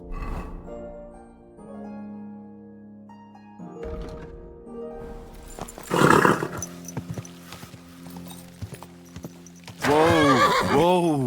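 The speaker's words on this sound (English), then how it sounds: "Easy. Good horse." In the video game Kingdom Come Deliverance 2, a horse neighs and whinnies with shaky, pitch-sliding cries. The calls come in two loud bursts with hoofbeats clopping between them, over a quiet musical background.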